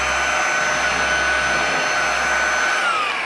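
A Homeika cordless vacuum cleaner running with its floor brush attached: a loud, steady, high-pitched motor whine with an even airflow rush, close by and alone, with a faint low rumble from the brush.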